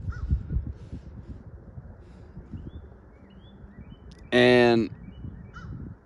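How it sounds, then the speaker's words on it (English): A crow gives one loud caw outdoors amid quiet background noise, with a few faint distant calls and brief talk. "I will say crows, there's a lot of crows where I live"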